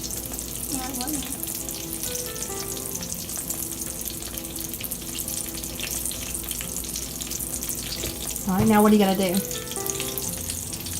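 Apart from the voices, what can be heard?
pancake frying in a pan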